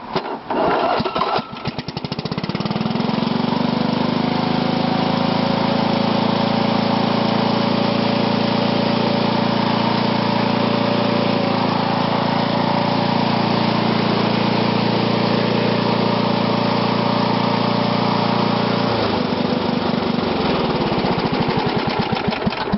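A Toro GTS lawn mower engine catches after a brief start attempt and then runs steadily at a loud, constant drone for about twenty seconds, nearby with no talk.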